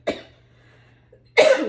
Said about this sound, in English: Every time I use seasoning, I get the coughs for some reason.